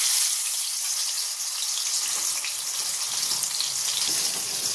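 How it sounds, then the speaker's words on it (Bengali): Fish rubbed with salt and turmeric sizzles in hot oil in a kadai with a steady, bright crackling hiss that continues throughout, close up and with no talking. "মাছটা আগে ভেজে নেব।"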